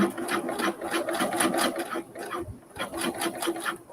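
A home sewing machine stitching a Ginger jeans seam, skipping stitches as it goes, hums in a steady, rapid run with a brief dip midway, close and fairly loud.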